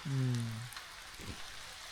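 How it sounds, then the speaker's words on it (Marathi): Rain falls outdoors in the Konkan region near Dapoli as a steady, faint hiss of drops on surfaces, briefly overlaid at the start by a short tonal sound. "नाही म्हणता पाऊस आला"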